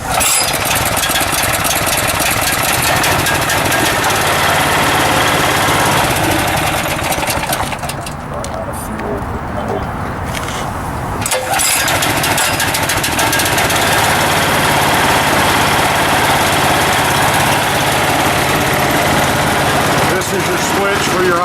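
Graco 833 unit's engine idling steadily while warming up, a loud, continuous close-up rumble with a brief dip midway, and a voice talking over it.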